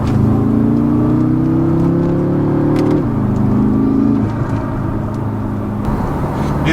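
A 2016 BMW M5 with a Dinan tune revs hard, its loud engine drone climbing steadily in pitch before dropping at an apparent gear change and pulling again, heard close with road noise beneath and no talking.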